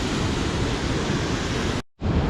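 Steady broadband rush of a waterfall fed by Avalanche Lake in Glacier National Park, continuous and fairly loud, with a brief dropout near the end before the roar resumes.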